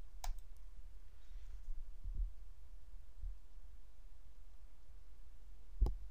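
A few sharp, isolated clicks of a computer mouse on a laptop setup, spaced several seconds apart over a quiet low hum, close and soft with no talking.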